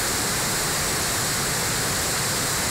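Wild stream at Klokot in Tábor, a tributary of the Lužnice river, rushing steadily with a dense, even wash of flowing water, close and constant with no voices.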